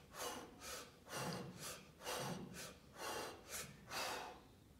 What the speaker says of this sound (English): Control your breathing, short breaths.